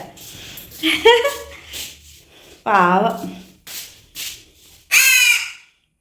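A crow caws three times, each a harsh, loud call spaced a couple of seconds apart, with softer rustling and scraping between the calls.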